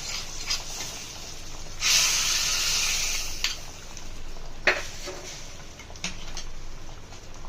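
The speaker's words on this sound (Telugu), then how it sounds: "తాలింపుని సాంబార్లోకి యాడ్ చేసుకొని కలుపుకుంటున్నాను." Tempering (tadka) sizzles as it is poured into a pot of sambar: a short, bright hissing burst that fades over about a second, followed by faint clinks and light stirring.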